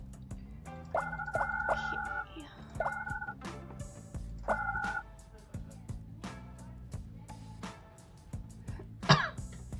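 A single person coughs a few times, short throaty bursts against background music with a bright squeaky tone, the loudest cough near the end.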